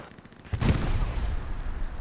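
In the WWII shooter Hell Let Loose, mines are destroyed by gunfire: a sudden heavy blast-like burst of gunfire erupts after a quieter moment, then rumbles and rolls on loudly for the rest of the moment.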